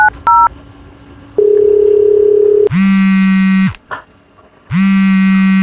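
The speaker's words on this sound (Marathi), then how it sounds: "आमचे एक पाहुणे आहेत त्यांना फोन लावून बघतो" A phone call to a relative: a few quick keypad dialing beeps, a steady tone, then two long electronic ringback tones separated by a short pause, loud and clear with no voices.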